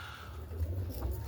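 Roller pigeons in a loft give a low, soft cooing under steady background noise, faint and continuous without talk.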